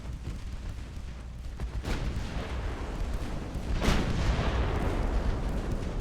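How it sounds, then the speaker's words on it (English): Destroyer naval gunfire in Ultimate Admiral: Dreadnoughts, a steady rumbling barrage with a couple of sharper booms standing out, continuous and fairly loud, heavy low-end roar throughout. "Alright, seeing destroyer fire coming in."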